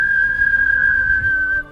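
A person whistles one sustained, steady high note lasting over a second before cutting off, loud and close; only a single continuous whistle is evident rather than three separate ones.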